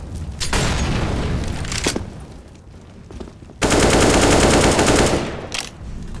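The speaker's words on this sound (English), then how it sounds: "Throwing a grenade." A grenade blast and heavy gunfire in a multiplayer shooter map playtest, rapid automatic bursts and booms, with a loud sustained volley in the second half.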